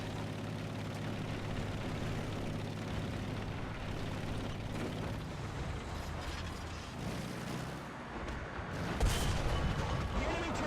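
Tank cannon fire from a PT-76B in War Thunder realistic battle: a sharp, loud blast near the end over steady engine rumble and a continuous broadband roar.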